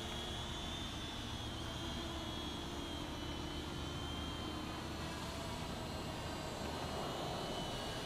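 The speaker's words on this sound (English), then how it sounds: "Getting a little bit of drone flights in today." A small Eachine E58 quadcopter drone flies steadily outdoors, giving a continuous buzzing motor whine with broad airy noise, holding at a fairly even loudness for the whole stretch with no talking.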